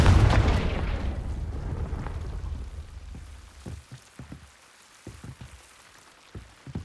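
A spell blast in Hogwarts Legacy erupts as a loud, deep boom that rumbles and fades over a few seconds, leaving faint scattered crackles and small debris-like ticks.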